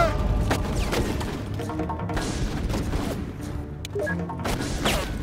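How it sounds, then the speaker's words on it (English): Gunfire crackles nonstop through a battle in the video game Full Spectrum Warrior: Ten Hammers, with dense overlapping shots and crashing impacts at steady volume for the whole stretch. "Taking some fire!"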